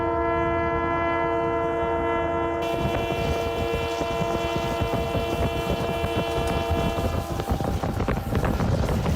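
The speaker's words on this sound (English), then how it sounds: "It's an old Yugoslav train." An old Yugoslav train running from Skopje to Prilep sounds a long, loud, sustained horn over the rumble and rattle of the rolling carriages, heard close and continuously throughout.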